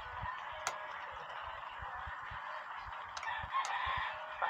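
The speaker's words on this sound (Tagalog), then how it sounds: "Pasensya na kayo, maingay dito kasi daming mga manok" Many chickens nearby at an outdoor cooking spot give off repeated clucks and honking calls, with a rooster-like crow rising over a steady background hum.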